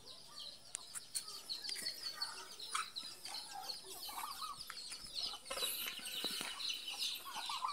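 A bantam hen clucks in a backyard in Masbate, her short calls scattered among other chickens and faint birds over a steady outdoor background, with no one speaking.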